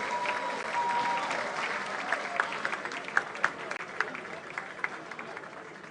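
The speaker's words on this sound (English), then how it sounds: "I believe they deserve a bigger round of applause." Applause from the audience at a national science and maths quiz grand finale between secondary schools, fairly faint and distant, a dense clapping wash that thins into scattered individual claps by the end.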